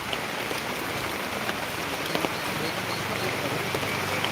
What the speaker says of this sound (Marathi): बघा झाला पाऊस चालू जोरात अगं इकडं आता पाऊस तर आलं ना इकडं पूर्ण पाणी पडतं बाबा